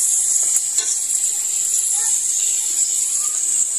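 Garlic frying in a pan, giving a steady, bright sizzle that runs unbroken throughout, close and fairly loud, with a few faint clinks of cookware.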